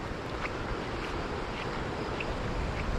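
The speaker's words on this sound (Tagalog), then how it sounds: "malaki yung alon, malakas yung hangin" Strong wind roars across the microphone over a continuous wash of big waves on a rough sea while fishing, loud and unbroken, with no voices.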